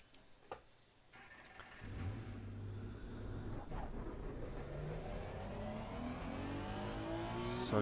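A Honda NSX race car in a racing game laps Watkins Glen, its engine note climbing steadily from a low start into a sustained, rising drone after a brief quiet opening.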